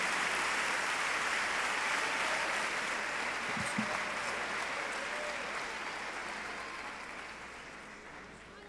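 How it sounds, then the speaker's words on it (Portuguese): Audience applause fills a church service for a preacher, a dense, steady clapping from many people that holds loud throughout and slowly fades toward the end. "aplaudindo o Senhor Jesus, recebamos o pregador da noite, pastor Eliseu Rodrigues."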